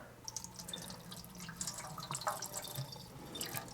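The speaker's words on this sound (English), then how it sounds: "Just kind of drain the water off and you'll get most of the white stuff" Water drains off pomegranate arils in a bowl, soft drips and trickles with small splashes, faint and close, with no voices.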